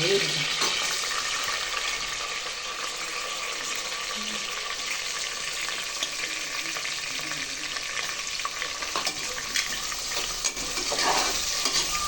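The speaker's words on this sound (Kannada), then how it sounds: "ಈರುಳ್ಳಿ ಚೆನ್ನಾಗಿ ಫ್ರೈ ಆಗಲಿ" Onions frying in oil in a pan with whole spices for pulao, a steady loud sizzle running throughout with occasional stirring scrapes and no talking.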